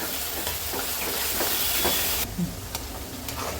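Onion for pav bhaji fries in a pan until reddish, a loud continuous sizzle and hiss with occasional stirring scrapes. Partway through, the sizzle abruptly drops quieter.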